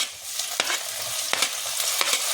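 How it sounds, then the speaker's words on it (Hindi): Garlic, ginger and crushed chillies fry in a pan, giving a steady sizzle broken by a few sharp scrapes of a spoon stirring them, close and without talk. "और अच्छे से इसको भून लेंगे"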